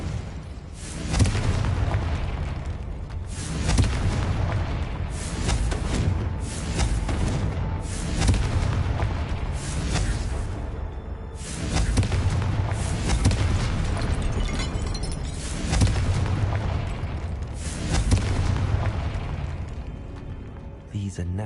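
Confringo spell blasts in the video game Hogwarts Legacy boom repeatedly in loud, dense bursts over a constant layer of game sound and combat noise.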